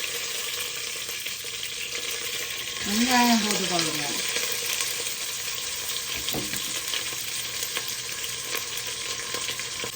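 Cumin, fennel and mustard seeds with curry leaves frying in hot oil give a steady, close sizzle for the whole stretch, with a brief gliding tonal sweep partway through.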